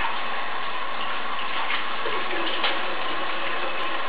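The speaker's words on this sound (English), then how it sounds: "You'll rarely see me just running water like this." Tap water runs steadily in a kitchen sink while fresh spinach is washed, giving a continuous close, even gush throughout.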